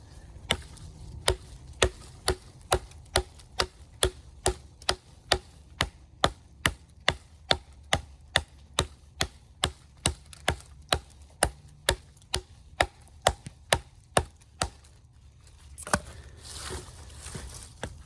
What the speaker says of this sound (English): I'm gonna do some chopping here with the Work Tuff gear Elbrus.